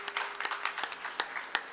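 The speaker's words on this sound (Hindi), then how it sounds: "तालियां बजने में नहीं रुकनी चाहिए।" An audience at a religious Ram katha gathering in Dehradun applauds with loose, uneven claps, moderately distant, over a faint steady hum.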